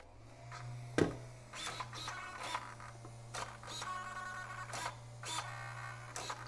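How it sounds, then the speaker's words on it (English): High-torque Savox servo fitted to a Traxxas X-Maxx 8S RC car gives short whirring bursts, about eight of them at irregular intervals, close up and moderately quiet over a steady low electrical hum. "some of the higher torque servos do make a little bit of noise"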